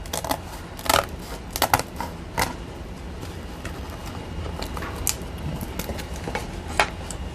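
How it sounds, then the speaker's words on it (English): Scissors cut along the edge of an altered book journal cover, giving scattered crisp snips and rustling clicks in irregular bursts, close and fairly quiet, over a faint background hiss. "Let me find my scissors and just try to cut some of this edge off."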